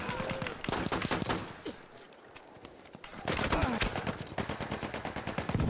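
Rapid rifle fire and explosive bursts from Battlefield 1 combat crackle in dense volleys, close and loud, dropping briefly before resuming with heavier shots, while a voice talks faintly underneath.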